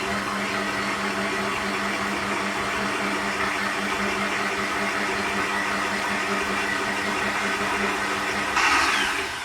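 A Kenwood stand mixer whirs steadily as it mixes flour and cocoa into chocolate cupcake batter, a constant motor drone with a brief louder scrape at the very end.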